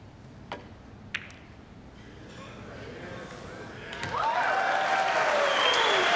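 Crowd at a US Open pool championship semifinal bursting into applause after a bank shot, starting with a few sharp ball clicks, then swelling into sustained loud clapping and cheering for the last couple of seconds.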